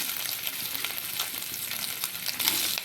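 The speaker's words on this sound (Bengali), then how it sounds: "এবার আমি ওই একই তেলে সয়াবিনগুলোকে দিয়ে ভালো করে লাল লাল করে ভেজে নেব" Boiled soybean chunks, salted and coated with turmeric, fry in hot oil with a dense, continuous close-up sizzle and crackle, along with faint stirring scrapes throughout.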